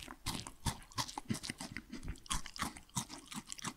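Someone takes a second bite of a burger and chews it close to the mic, giving wet, crunchy mouth sounds in a steady, irregular rhythm with no talking.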